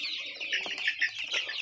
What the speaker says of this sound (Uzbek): Bu yoqda adlerskiy xo'rozlarimiz bor. Xo'rozga qiziquvchilar, ishqibozlar uchun. Hammasi qichqiriqda,